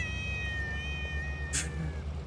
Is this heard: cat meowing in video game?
yes